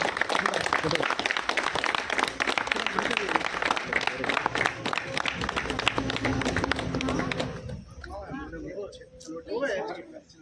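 Dense applause from a crowd at a Christmas cake-cutting and prayer event, many hands clapping rapidly for several seconds, then fading out as voices speak.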